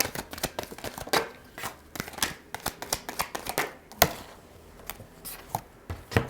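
Tarot cards shuffled by hand in quick, uneven bursts of riffling and slapping, close and fairly soft, with no talking.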